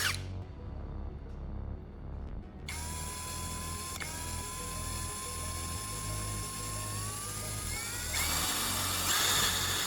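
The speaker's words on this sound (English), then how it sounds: "Now we'll drill a hole right in the center of its base" A drill whines steadily at high pitch while boring a hole through the base of an aluminum cup, its tone rising near the end, over a constant low mechanical hum; no one speaks.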